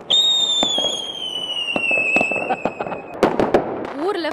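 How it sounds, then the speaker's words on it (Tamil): Diwali fireworks and firecrackers in Toronto, with a whistling rocket climbing, then sharp crackling bursts and pops from nearby and farther off, over a steady outdoor crowd murmur and background chatter. "இங்கேயும் லீ சென்டர் ட்ரைவில் எல்லாரும் பட்டாசு வெடிச்சு செலிப்ரேட் பண்ணுறோம்"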